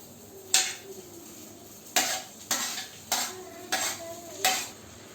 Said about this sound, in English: Now it is the turn to add the bhindi and onions to this mixture.